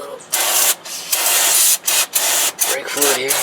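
Loud hissing bursts from an aerosol can of brake fluid sprayed onto a 2003 Subaru Forester 2.5L transmission drain area, several sprays separated by brief pauses, close up, with a voice briefly speaking near the end.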